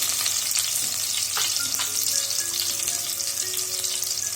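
Onions sautéing in a pan for a green gram rice dish, a steady close sizzle and crackle running throughout with a few faint tonal squeaks and scrapes, no voices.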